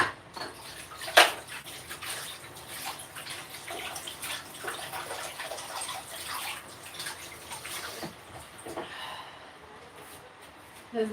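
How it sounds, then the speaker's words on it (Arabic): Water runs from a tap while hands are washed during home cooking. A steady, fairly quiet splashing stream carries faint clinks and shifting water sounds throughout. "لازم حتى نغسل يديا"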